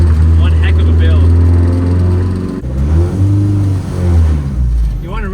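A modified Honda CRX engine revs hard and accelerates on San Francisco streets, loud and close, with the pitch climbing, dropping at a shift and climbing again, while voices talk over it.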